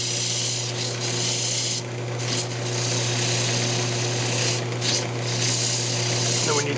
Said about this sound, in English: I'm going to take a DA and hit this right here, but I'll just sand up